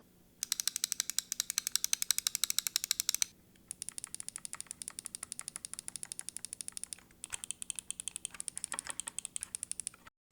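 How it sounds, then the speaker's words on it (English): Dozens of muted, tight clicks from a medical-grade computer mouse, fired in rapid, fairly even runs with short pauses between bursts; close, crisp and dry, with no voices. "The clicks are the normal style of mouse click with the pinging sound, but super dampened both in sound and feel compared to a normal mouse click"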